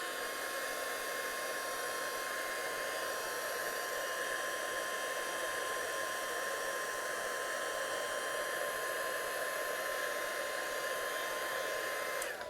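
A heat tool blows hot air continuously to heat glue on a glitter-covered napkin, a loud steady hair-dryer-like whir held close throughout without talk.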